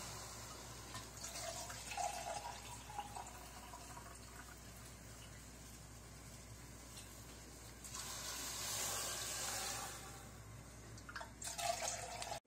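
Water poured into a pot of Russian borscht soup on the stove: faint, continuous splashing and trickling liquid with a couple of louder pouring surges, no voices.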